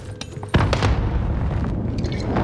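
A grenade detonates in Call of Duty: Warzone as a sudden, sharp boom at about half a second, followed by a rolling low rumble and scattered game noise, with no talk.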